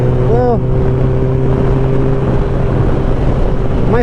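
Yamaha FJR1300 sport touring motorcycle cruising at about 110, heard as a loud, steady engine drone under heavy rushing wind noise throughout.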